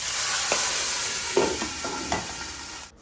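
Cumin, sliced onion and whole black peppercorns tempering in one to two tablespoons of hot oil, giving a steady close sizzle broken by a few soft stirring scrapes and clinks.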